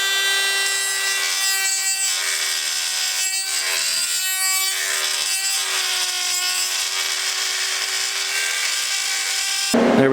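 A tool grinds and rasps steadily against a wheel part while a hole is ovaled out, with a close, continuous high-pitched whine and scraping that runs almost unbroken before stopping abruptly.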